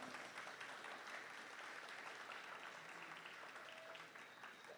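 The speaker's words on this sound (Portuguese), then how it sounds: "merecemos todos aí uma grande salva de palmas" Applause from the audience at a Partido Novo party meeting in Minas Gerais, a steady dense clatter of many hands held for about five seconds, moderately distant, tapering slightly at the end with no speech over it.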